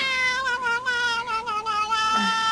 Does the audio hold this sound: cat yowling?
yes